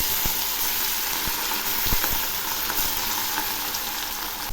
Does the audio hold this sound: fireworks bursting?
no